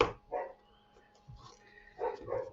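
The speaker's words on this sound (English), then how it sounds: "He has a habit of just barking at shadows of late." A dog barks in short bursts indoors, two quick yips at the start, a quieter woof in the middle and a louder pair near the end, with no talk over it.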